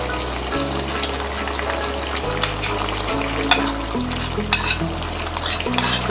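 Chicken korma frying in a pan as yogurt and onion paste go in, giving a steady close sizzle and stirring scrape with low music running underneath throughout.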